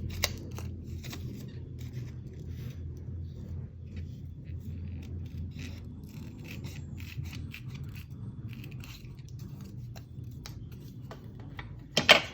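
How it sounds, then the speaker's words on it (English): Scissors snip around the inside of a paper photo slide frame, soft steady cutting and rubbing close by over a low rumble, with a couple of sharper clicks at the end. "just cut around the inside, get that frame"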